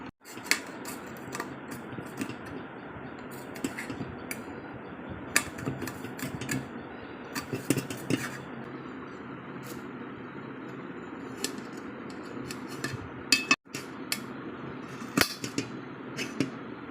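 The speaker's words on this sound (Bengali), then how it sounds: "আমরা কাটিং করা স্টার্ট করছি স্টার্ট করে দিলাম সব ডাইস হবে পেঁয়াজ ডাইস হবে" A knife chops onion, ginger, garlic and herbs on a board in irregular sharp taps, some in quick bursts and others spaced apart, against a quiet background. No one speaks.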